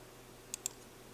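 A computer mouse gives two quick, close clicks in near silence.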